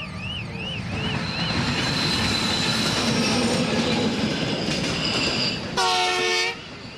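A train rolls loudly through a city railway level crossing with steady wheel rumble and clatter, the crossing's warning bell or signal tones audible early on, and a strong horn blast near the end.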